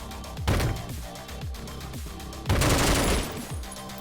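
A video game weapon fires in rapid bursts of loud, close shots with booming low thuds, and a denser, heavier volley comes near the end.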